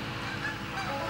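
A goose honks a few short times at a lake during a goose hunt, faint and distant over a steady wash of wind and water noise.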